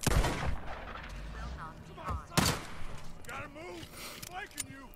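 Gunshots in the video game Days Gone during a raid at Cloverdale Lab, a few sharp, close cracks including one loud shot near the middle, with voices talking around them.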